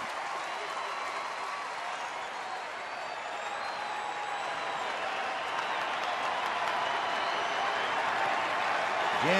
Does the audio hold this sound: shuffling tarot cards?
no